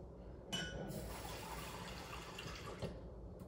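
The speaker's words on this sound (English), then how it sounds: "pour some cold water in" Cold water pours steadily from a tap into a bowl used for washing keyboard keycaps, a faint continuous splashing stream lasting a few seconds with no talk.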